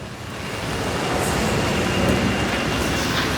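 Steady rain falls in a dense, even hiss, spattering on hard ground and wet sidewalks on a street in Copacabana, Rio de Janeiro.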